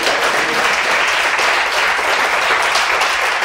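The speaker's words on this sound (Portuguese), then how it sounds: "Você pode aplaudir o Senhor?" A church congregation breaks into loud, sustained applause, a dense wash of many hands clapping steadily and evenly, with no break and hardly any voices heard above it.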